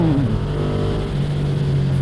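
A Ducati Streetfighter V2 motorcycle engine in its sport riding mode revs loudly and close by, its pitch climbing quickly at first and then holding a steady, throaty drone.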